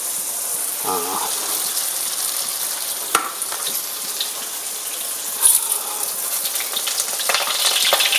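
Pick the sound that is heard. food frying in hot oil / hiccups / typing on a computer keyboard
food frying in hot oil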